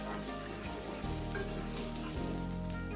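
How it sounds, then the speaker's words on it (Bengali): Chopped onion frying in oil for a potol and potato bhaji, a steady dense sizzle close by with a few soft stirring shifts, no voices. "তেলের উপর পেঁয়াজ কুচি দিয়ে দিলাম"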